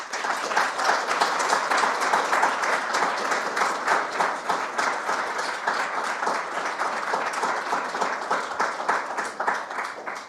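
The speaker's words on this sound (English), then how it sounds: "It's a very long and worthy round of applause as well." A long, sustained round of dense audience applause at a decentralised science conference, loud and even throughout with no talk over it.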